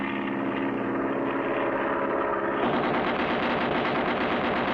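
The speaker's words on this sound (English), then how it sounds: "Look, he's shooting." Cartoon aircraft machine gun rattles in steady rapid fire over a droning propeller engine, loud and continuous, with the firing texture shifting partway through.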